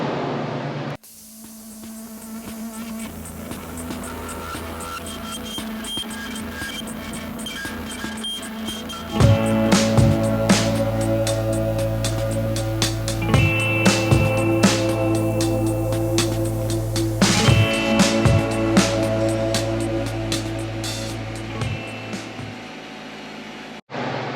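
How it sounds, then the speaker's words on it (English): A workshop air compressor supplying a plasma cutter drones steadily throughout, a loud, constant hum that jumps louder partway, with metallic clicks and taps over it and no speech. "that air compressor is going to kick on and make a bunch of noise"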